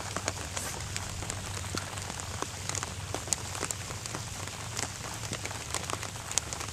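Rain falls steadily outdoors during fishing, a soft, even patter of many drops with scattered sharper ticks, faint and continuous, with no voices.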